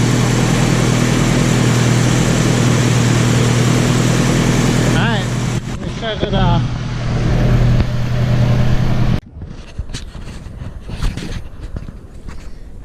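A swapped Honda K24A2 engine idles steadily in an Acura Integra with a six-speed Type S transmission, a loud even hum with footsteps and shuffling nearby before it cuts off abruptly, leaving quieter background sounds.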